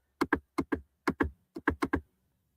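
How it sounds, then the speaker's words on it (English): Loud computer keyboard keys clacking in clustered bursts, about eleven sharp strokes grouped in pairs and triples, close and clear with no talking. "This keyboard is loud."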